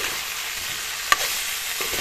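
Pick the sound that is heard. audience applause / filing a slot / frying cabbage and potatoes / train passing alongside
frying cabbage and potatoes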